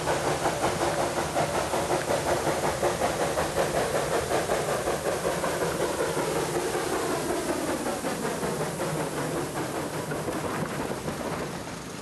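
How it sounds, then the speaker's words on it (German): A scheduled steam train on the Selketalbahn narrow-gauge railway in the Harz works uphill along the Selke valley, its rhythmic chuffing and rumble steady and loud throughout, fading slightly toward the end. "Vom Haltepunkt Drahtzug aus geht es Selke aufwärts weiter mit dem planmäßigen Dampfzug."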